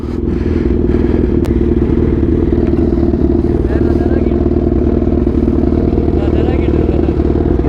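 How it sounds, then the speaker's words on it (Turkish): A loud, steady motorcycle engine drones throughout with constant low rumble and occasional clattering, in a windy open area at an airstrip, with a voice talking over it. "Şu an seni fazla duymuyorum. Motorun sesinden dolayı"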